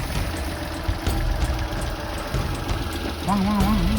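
A car engine idles with a steady low rumble as people sit inside, and a voice is heard briefly toward the end.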